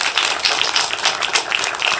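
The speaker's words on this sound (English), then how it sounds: "Everybody give Jagger a big round of applause." Applause from an audience at a live civic class event, a steady dense patter of many hands clapping close by for about two seconds with no talk over it.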